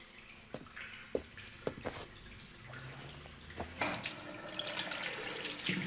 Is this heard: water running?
yes